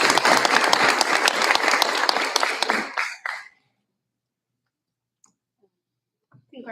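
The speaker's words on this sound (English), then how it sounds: "Let's have a round of applause for Dr." Board meeting audience applauding a student of the month, a dense burst of clapping lasting about three seconds before cutting off into near silence, with a faint sound returning at the very end.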